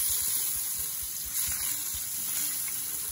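Eggplant pieces frying in oil in a pan, giving a continuous close hiss and crackle that holds steady throughout, with no voices.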